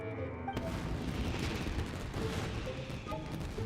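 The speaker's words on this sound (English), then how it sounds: "A lot of fireworks." Fireworks bursting in Genshin Impact, a dense continuous barrage of loud booms and crackles that fills the whole stretch after an abrupt start, with no talk over it.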